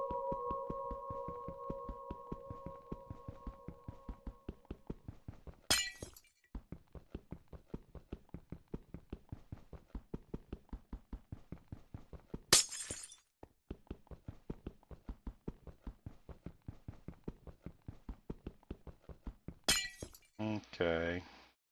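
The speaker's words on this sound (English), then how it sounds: "Take out these east pieces of glass here real quick." Glass blocks being broken in Minecraft with the Tekkit mod: three sharp, bright shatters spaced several seconds apart, set against a steady rhythmic pattern of taps and a faint hum.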